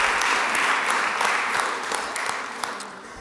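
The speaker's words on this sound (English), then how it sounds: "So give her a round of applause." Applause from a Springfield City Council meeting audience: dense, continuous clapping from a sizeable crowd, steady and fairly loud throughout, tapering slightly near the end.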